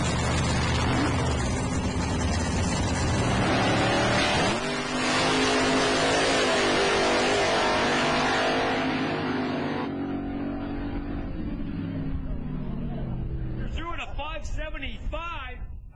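A drag-racing two-seater dragster and a funny car roar at full throttle in a loud, sustained blast that holds for several seconds, then tapers off as voices come in at the end.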